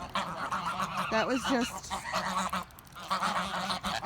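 A goose with an injured, bloodied wing honks in a few brief nasal bursts near the middle, amid steady outdoor noise with other fowl around and a person talking.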